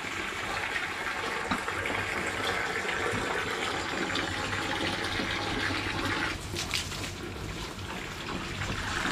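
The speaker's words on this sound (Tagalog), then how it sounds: "Lagyan natin ng tubig niya para mainumin siya." Water runs steadily into a container to give an animal drinking water at a rural countryside home, a continuous close splashing flow that shifts slightly in tone partway through, with no talking.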